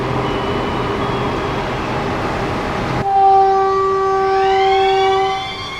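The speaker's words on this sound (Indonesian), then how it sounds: "saat ini kereta api bandara berhenti stasiun Air Tawar" A Padang airport train pulls into Air Tawar station. Broadband rumble of running fills the first half, then steady tonal horn-like or brake whine lines sound loudly, with rising squealing tones as the train stops.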